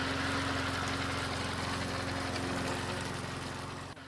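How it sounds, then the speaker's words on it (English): A Toro Z-Master 4000 zero-turn mower engine runs at a steady, close idle with an even throbbing hum that eases slightly near the end. "I hear it every time my new Toro Z-Master 4000 zero turn starts up"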